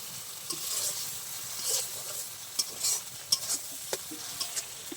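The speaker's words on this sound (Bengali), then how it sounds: "আবার একটু ভালো করে ভেজে নেবো মশলাটা" A spice paste frying in oil in a pan, stirred with a spoon: soft sizzling under a series of sharp scraping strokes against the metal, close by and fairly quiet.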